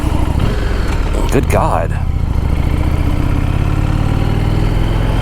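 A motorcycle engine labours close by while climbing a steep hill, droning steadily with a brief rising rev as it shifts gears early on, and a voice briefly exclaims over it.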